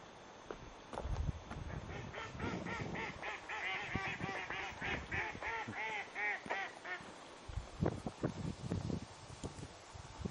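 Many ducks quack in a rapid, noisy chorus nearby at a pond, the calls bunching into bursts with brief pauses and some rustling underneath.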